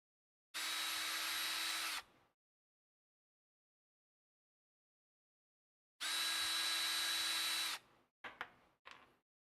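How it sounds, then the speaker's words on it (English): A power drill whirs in two steady bursts, each about one to two seconds long, drilling through the top knuckle of a Unimog kit part, followed by a few short trigger blips. There is silence between the bursts. "what I'm going to do is drill these out through the top knuckle"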